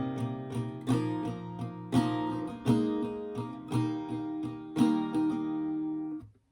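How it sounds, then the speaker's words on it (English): An acoustic guitar slowly strums the first line of the break in a song. Distinct chord strokes ring out at a relaxed, steady pace, close and clear, then fade into silence at the end. "So if I play this line by line here slowly, line 1 would sound like this."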